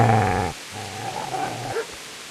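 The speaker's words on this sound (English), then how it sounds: "Get away, you mutt!" A dog growls low and throaty up close, one long rumble followed by two shorter growling bursts and a brief whine at the end, with no voices.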